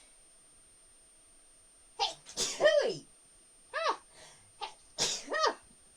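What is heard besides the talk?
two sneezes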